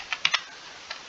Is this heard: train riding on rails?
no